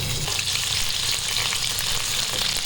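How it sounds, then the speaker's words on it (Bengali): Chopped garlic and carrots fry in a pan for Bengali chilli chicken and vegetable fried rice, giving a steady, dense sizzle that holds at an even level from start to finish with no talk. "প্রথমে দিয়ে দিচ্ছি অল্প রসুন কুচি, রসুন ভাজা হতে থাকবে।"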